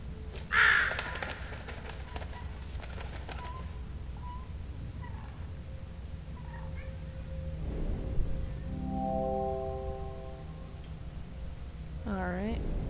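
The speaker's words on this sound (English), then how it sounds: "there's a bird" A crow in the clock tower of the puzzle game The Room Three gives a brief, sharp caw near the start, then falls quiet as ambient tones and soft chimes continue in the background.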